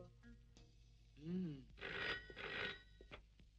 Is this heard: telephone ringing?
yes